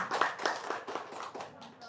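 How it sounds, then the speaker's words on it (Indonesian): An audience claps hands in a brief burst of scattered, uneven claps close by, mixed with people talking over it. "Tepuk tangan dong, luar biasa."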